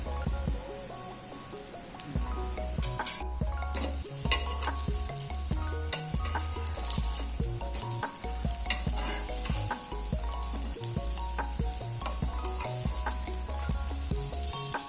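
Corn cutlets shallow frying in oil in a pan over a low gas flame, giving a steady close sizzle and crackle throughout, with background music playing underneath.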